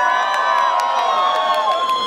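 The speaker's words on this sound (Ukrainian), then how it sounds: "Ще гучніші оплески, будь ласка." A festival crowd at a town celebration in Irshava cheers and whoops loudly and steadily, with children's shouts and scattered claps mixed into the continuous roar.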